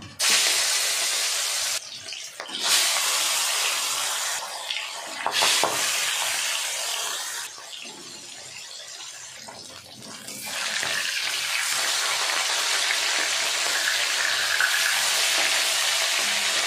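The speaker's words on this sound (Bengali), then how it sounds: "তেল গরম হয়ে গেছে, প্রথমে আমি কাতলা মাছগুলো ভেজে নেব।" Katla fish pieces fry in hot oil with a loud, broad hiss that drops out briefly a few times and then surges back, sizzling alone without any talk.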